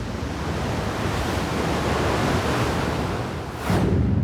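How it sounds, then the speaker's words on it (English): Sea waves washing in and out as the tide moves near rocks, a steady broad surf roar that stays loud throughout and swells into a fuller rush near the end, with no voices. "We can hear the water moving in and out"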